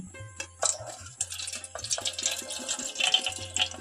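Clear water draining and trickling from karonda fruit in a kitchen, with intermittent splashes, drips and light clinks of a container close by.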